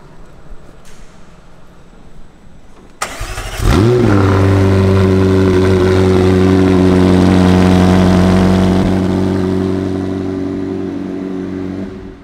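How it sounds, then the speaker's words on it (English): A McLaren sports car engine starts with a sharp crank at about three seconds, then settles into a loud, steady, close-up idle with strong low harmonics that eases slightly toward the end. "Very typical McLaren sound."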